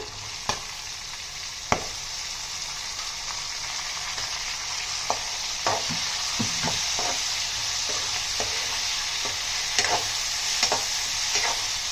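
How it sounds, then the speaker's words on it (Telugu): Small pieces of raw mango fry and sizzle in a pan, a steady low hiss broken by scattered clinks and scrapes of stirring, moderately quiet and without voices. "ఇలా వేగాక చిన్న ముక్కలుగా కట్ చేసుకున్న మామిడికాయ ముక్కల్ని వేసిస్తున్నానండి."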